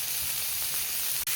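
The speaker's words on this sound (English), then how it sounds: "I'm going to fry these up until I get to a nice crispy state" Bacon strips crackling in a frying pan, a dense, steady hiss with a sharp pop near the end, close and even in level, no talking.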